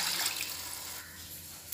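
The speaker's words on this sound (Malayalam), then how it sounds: "1 കപ്പ് മീറ്റ് സ്റ്റോക്കാണ് ഞാൻ ഒഴിക്കുന്നത്." Meat stock from boiled beef is poured into a cooking pot for rice, a steady liquid splash and trickle that fades slightly over a couple of seconds.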